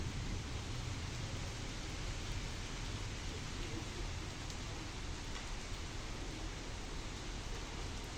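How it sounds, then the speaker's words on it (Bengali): Steady rain falls continuously, a soft, even wash of noise with no voices, constant from start to finish. "আজ 3 দিন যাবতে বৃষ্টি হচ্ছে"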